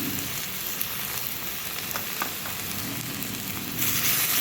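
An onion and ginger spice paste fries with turmeric in a pan, giving a steady, close sizzle that swells a little louder near the end.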